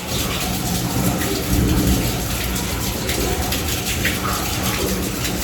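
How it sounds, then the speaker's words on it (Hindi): Monsoon rain falls steadily outdoors, a loud, dense hiss of drops pattering on surfaces that continues without a break, with no voices over it. "सुना ना कितना अच्छा लग रहा है सुनने में बारिश का मौसम है"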